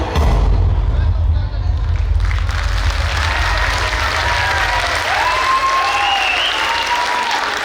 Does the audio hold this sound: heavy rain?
no